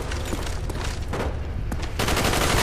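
AUG rifle fire in a video game, with dense bursts and rapid volleys of shots crowding together and holding steady, then growing louder and fuller near the end.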